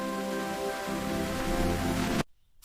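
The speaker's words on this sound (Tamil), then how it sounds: "அவன் மெதுவாக மழையாக பெய்ய ஆரம்பித்தான்" Rain begins to fall as a storytelling sound effect, a steady hiss of drops layered over soft sustained tonal music, cutting off abruptly near the end with a short faint burst after the silence.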